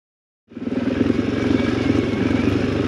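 A motorcycle engine kicks in abruptly after half a second of silence and runs loud and close with a throbbing, pulsing note as the rider downshifts on low-traction ground.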